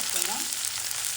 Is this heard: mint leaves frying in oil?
yes